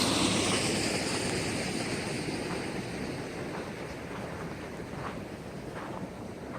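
River water rushes through a culvert among willow trees in the Alabama Hills, a steady broadband roar with some wind buffeting on the microphone, loud and continuous without voices.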